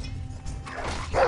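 A dog in the Game of Thrones video game gives a brief yelping bark near the end, under rumbling combat noise.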